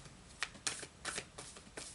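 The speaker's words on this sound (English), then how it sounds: "I shuffled these cards really well" Oracle cards are shuffled by hand close up, giving soft papery riffles and several sharp flicks in an irregular rhythm. No voices are heard.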